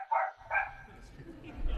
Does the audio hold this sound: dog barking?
yes